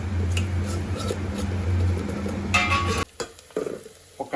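Country chicken curry with tomato and ginger paste being stirred and fried in a pan, a steady close sizzle with scraping strokes that stops abruptly near the end, leaving a few faint clinks.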